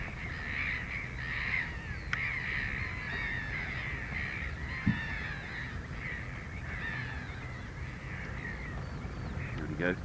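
A crow caws several times over steady outdoor background noise, the calls moderately close and repeated at irregular intervals.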